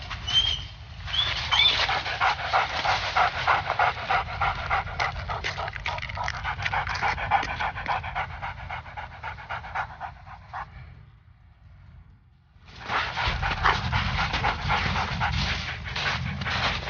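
Police search dog panting hard and fast at close range, a rapid rhythmic breathy huffing that runs on, drops away into a brief lull, then resumes strongly.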